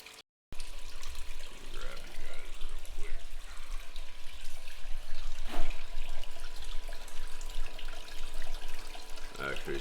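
Water running and splashing steadily while a gold pan is washed out on a Gold Fox Mini Monster sluice setup outdoors, a continuous close wash with brief sloshing surges and some background voices.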